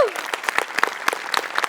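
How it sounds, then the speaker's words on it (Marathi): Audience applause bursts out for a comedy stage performance in Maharashtra: a brief, dense patter of many hands clapping close by, steady for under two seconds. "तुझ्यासाठी टाळ्या."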